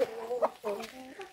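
Backyard farm chickens, one yellow and one black, give a quick series of close, soft clucks and short calls over about a second.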